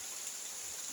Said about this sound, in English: Looking at the rain and hearing the sound of the rain.